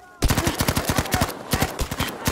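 Rapid automatic gunfire from the video game Battlefield, set in Arras, bursts loud and close in a fast string of cracks that starts abruptly and carries on for the rest of the clip.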